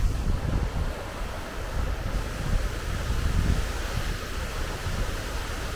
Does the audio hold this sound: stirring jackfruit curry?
no